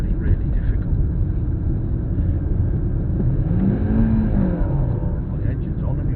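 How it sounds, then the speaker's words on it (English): A car engine hums steadily during a driving lesson, a low continuous drone with road rumble filling the cabin, rising slightly mid-way, while people talk over it. "the engine's on anyway"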